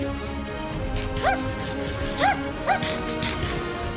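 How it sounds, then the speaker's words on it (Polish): A game dog gives several short, sharp barks in a Minecraft-style server, isolated yips spaced apart over background game sound. "ale jeszcze szczeknięcia mocne"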